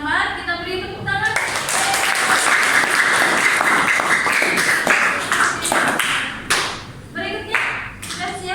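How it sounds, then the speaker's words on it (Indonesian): A room of participants in an academic supervision coaching session bursts into applause after a voice speaks, clapping loudly for several seconds before it tapers into scattered claps and renewed talk. "kita beri tepuk tangan"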